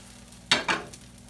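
Blueberry pancake in a buttered pan, with two short close hissing sizzle bursts as it is moved or turned, then a quieter tail.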